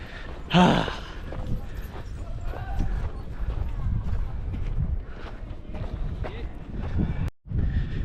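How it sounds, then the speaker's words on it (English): A horse runs along a footpath near the Giza pyramids, its hoof clip-clop loud and close at first under a continuous murmur of voices and outdoor bustle, then fading as it moves off into the distance. "riding off into the distance almost just ran me down with their horse"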